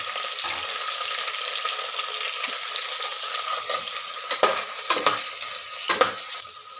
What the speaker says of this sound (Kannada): ಅದನ್ನ ಹಾಕ್ತಾ ಇದ್ದೀನಿ. ಈಗ ಫ್ರೈ ಮಾಡ್ತಾ ಇದ್ದೀನಿ.